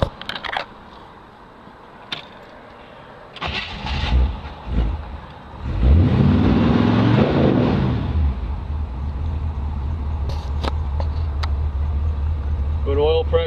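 A 1955 Chevrolet Bel Air engine cranks, fires and settles into a steady idle, preceded by clicks and handling noises, loud and close with a continuous low rumble.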